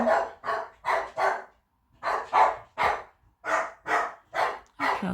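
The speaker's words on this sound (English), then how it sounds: "Sorry guys for him barking. It's the postman." A dog barks at the postman at the door, nearby and loud, in quick bursts of three to four barks separated by short pauses, eleven barks in all.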